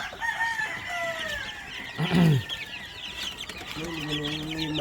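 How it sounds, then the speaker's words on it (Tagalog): Newly hatched chicks peep in high, thin chirps. Several overlapping calls come from close by, and adult chicken clucks and a brief vocal sound are mixed in. "ang dami pa palang sisiw dito"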